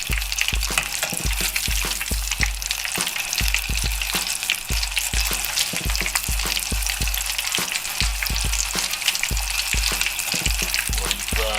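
Shrimp deep-fry in hot oil, a dense, continuous crackling sizzle close by, with rhythmic low thumps and bubbling throughout, no voices.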